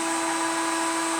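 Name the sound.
heat gun warming a Jawa motorcycle engine case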